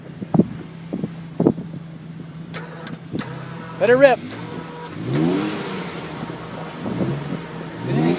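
A winch strains to pull a Jeep TJ during off-road Dana 44 axle testing. A steady mechanical drone rises over a low idling engine hum, with brief voices and wind buffeting heard around it.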